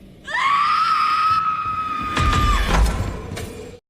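A woman in a horror film scene lets out a long, loud sustained scream of about two seconds, followed by crashing, thudding commotion.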